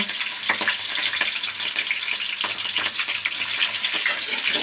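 Tomatoes, green chillies, garlic, cumin and pepper frying together in a pan, giving a loud, dense, continuous sizzle up close with small crackling pops throughout, no voices.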